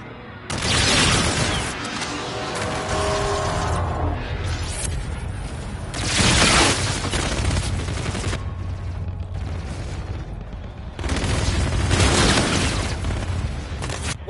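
Bursts of automatic gunfire and explosions in the futuristic shooter game Call of Duty: Infinite Warfare multiplayer, loud and dense in three main waves with booming low rumble throughout.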